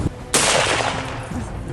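Gunfire from fighters shooting at an Israeli military tower from behind rocks and hills, a sharp loud burst of shots that rings out and decays into echoing reverberation, with no voices.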